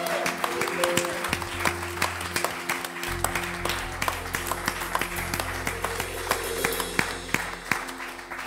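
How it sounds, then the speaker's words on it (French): A church congregation applauds and cheers for Jesus at a Sunday worship service, dense clapping running steadily throughout over sustained low organ or keyboard tones. "on donne une acclamation à Jésus"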